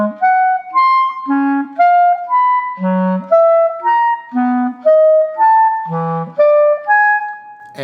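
A horn plays guide tones while low root notes walk around the circle of fourths, heard as a steady sequence of clear, evenly spaced sustained notes over a moving bass, without talk.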